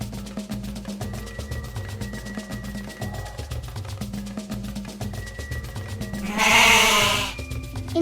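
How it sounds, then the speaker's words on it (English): Goat bleating on a farm, a single wavering cry near the end that rises loudly over steady rhythmic music. "G-O-A-T, goat."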